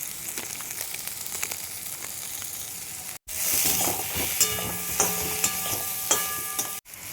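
Ground Kashmiri red chilli, cumin, coriander and garam masala sizzle in hot oil in a pan for a Bengali egg curry, a steady close crackling hiss with stirring scrapes, cut by two brief pauses.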